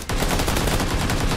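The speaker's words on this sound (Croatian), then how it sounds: "Pucaju se." Rapid automatic gunfire from the video game PUBG, a dense, loud continuous burst of shots close up with no talking.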